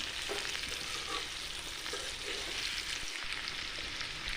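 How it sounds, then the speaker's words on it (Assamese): Elephant apple pickle pieces with salt sizzle steadily in a hot pan while being stirred, a continuous close frying hiss with faint scraping throughout. "এইদৰে লৰাই মই 2 মিনিট ভাজি ল'ম"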